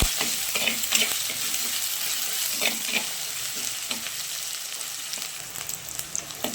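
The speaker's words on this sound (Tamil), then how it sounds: "வெங்காயம் பூண்டு ஓரளவுக்கு நல்லா வதங்கிடுச்சுங்க." Onion and garlic sautéing in a pan with a little salt for a sardine curry, giving a steady close sizzle broken by repeated scraping and stirring strokes, with no talking.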